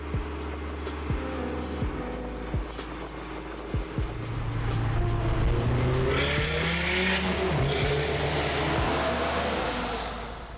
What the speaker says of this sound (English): I like that we're hearing the car.